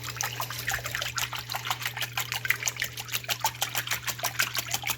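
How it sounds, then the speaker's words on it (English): Eggs and milk whisked for Yorkshire pudding or popover batter, a fast steady rhythm of wet splashing strokes in a bowl, close and even, with no voices. "first I have to whisk the eggs and the milk up"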